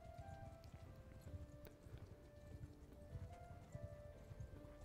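Horses in Mount & Blade II: Bannerlord move in a steady clip-clop of hooves, a dense, continuous trotting rhythm that sounds fairly close, with faint tonal game sounds underneath.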